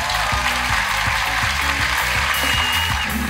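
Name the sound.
audience applause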